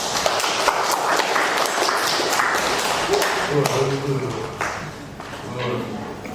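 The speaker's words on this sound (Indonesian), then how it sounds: "Tepuk tangan untuk kita semua." A class claps together in a microteaching session, a dense patter of hands that fades into voices talking.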